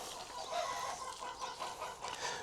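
Hens in a greenhouse garden cluck continuously in a close, busy chorus, with scattered louder calls rising over a steady rustling background; no one speaks.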